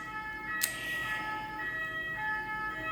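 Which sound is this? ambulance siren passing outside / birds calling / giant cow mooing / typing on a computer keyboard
ambulance siren passing outside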